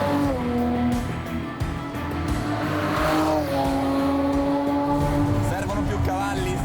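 Italian-built Countach replica fitted with a V6 turbo engine accelerating on a track, a steady loud engine drone with rising and shifting tones throughout, with a voice talking over it.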